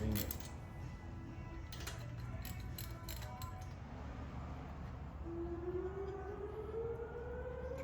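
A town siren in Sampson wails in the distance, rising slowly in pitch and growing clearer toward the end, after a few metallic clinks of tools and a short faint earlier tone.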